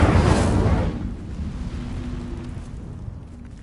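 The Incendio fire spell in Hogwarts Legacy bursts out in a loud, roaring whoosh at the start, then fades into a low crackling rumble that trails off over a few seconds.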